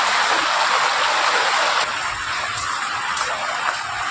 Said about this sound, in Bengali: দেখো শুধু বিশাল জোর বৃষ্টি হচ্ছে,